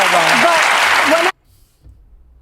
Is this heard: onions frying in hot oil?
no